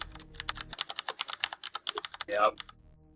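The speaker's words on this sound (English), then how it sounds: "I see the typing." Fast typing on a computer keyboard, a close rattle of rapid, uneven keystrokes lasting a couple of seconds, followed by a brief murmur-like sound and a few last taps.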